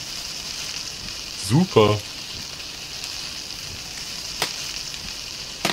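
A frying pan in the survival game PalWorld sizzles steadily, a constant hiss beneath brief game effects and a short spoken word.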